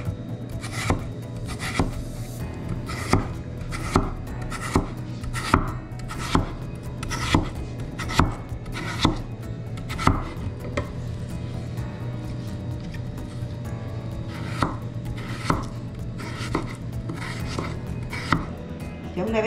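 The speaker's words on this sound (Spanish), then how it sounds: "Vamos a partir de esta manera nuestra papa y la vamos a ir haciendo en rodajas finamente," Knife slicing potato into thin rounds for a Spanish tortilla, with about two dozen crisp chops striking a cutting board at an uneven pace over a steady low hum, close and clear with no talking.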